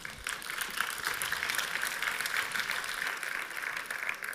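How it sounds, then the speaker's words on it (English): Audience applause at a sports event, a dense sustained patter of many hands clapping at moderate loudness, heard alone without voices. "If we could give them a round of applause"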